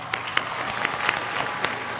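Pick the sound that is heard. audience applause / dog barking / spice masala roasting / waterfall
audience applause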